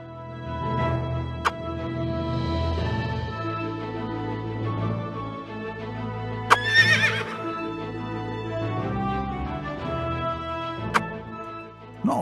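Mares neigh and whinny inside the video game Silver Tale, with a sharp loud whinny near the middle, brief snorts, and soft hoof clops over steady ambient game music.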